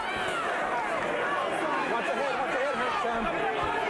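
A boxing arena crowd roars and murmurs steadily in the background after a big right hand lands in a heavyweight-era bout between James Toney and Peter, a continuous wash of cheering voices under the noise.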